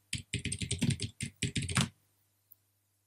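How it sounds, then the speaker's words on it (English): A search is typed on a computer keyboard as a quick burst of close, crisp keystrokes in two clusters. It stops after about two seconds, followed by one isolated click in otherwise quiet surroundings. "We're just going to type in holiday property rental again."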